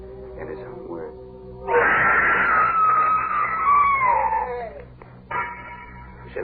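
A drawn-out scream in a radio horror drama rises sharply and holds for a few seconds before fading, set against a low background hum, with brief voices before and after.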